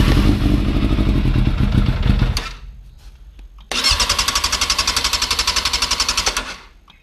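A motorcycle engine with a faulty throttle runs on choke in a home workshop, sputtering roughly at first, then cutting out, then firing up again with a rapid, loud, pulsing idle before dying away.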